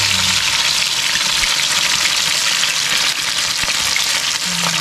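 Food crisp-frying in hot oil gives a loud, dense, unbroken hiss and crackle that fills the whole stretch, close by and with no voices.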